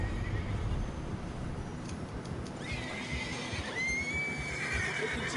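A horse neighs with a rising, shrill whinny over a low background rumble, followed by a second drawn-out whinny, in the video game Red Dead Redemption 2.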